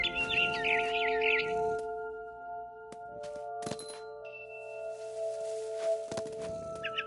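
A barn swallow in the video game What Remains of Edith Finch gives bright, rapid chirps in a burst at the start and again briefly at the end. Quiet stretches with sustained tones and a few sharp knocks fall between them.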